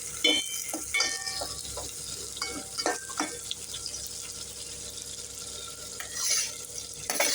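Onions sizzle steadily in a hot pan with green chillies for a fish curry, broken by several sharp scraping and stirring knocks; nobody talks.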